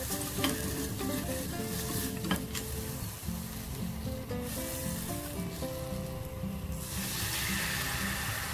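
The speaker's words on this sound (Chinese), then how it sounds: "我哋先小火炒一炒呢个香料，" Spices are stir-fried over low heat with ginger and scallion for a drunken duck tongue dish. A continuous soft sizzle carries the whole stretch, with occasional clinks and scraping from the stirring.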